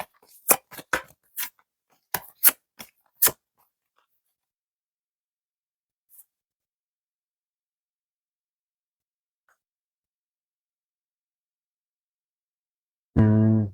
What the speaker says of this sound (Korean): 카드 하나 더 뽑아보겠습니다.